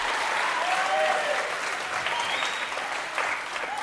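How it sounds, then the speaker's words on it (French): A studio audience on a French television variety show applauds for Charlie, a steady, dense wash of clapping that holds at even strength across the whole stretch with no voices rising above it. "applaudissements pour Charlie"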